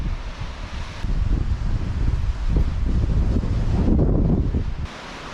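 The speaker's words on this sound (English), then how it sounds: "look, it's windy here" Wind buffets the microphone at Ralph's Falls lookout in Saint Columba State Reserve, a loud rumbling roar with gusts that swell and ease, with no voices.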